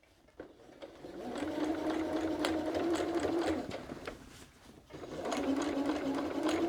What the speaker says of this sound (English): So let's take this and sew it real quick.